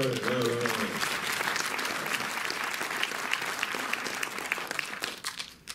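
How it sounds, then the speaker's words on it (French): An audience applauds in a cinema after a song-and-dance performance: a thick, continuous wave of clapping that holds steady, then tapers off toward the end, with a brief voice early on. "Oui, vous pouvez l'applaudir."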